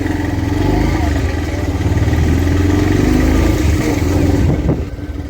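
Motorcycle engine running close by as the bike rides ahead on a local road, a loud steady mid-pitched drone with a pulsing throb, continuous before easing slightly at the end.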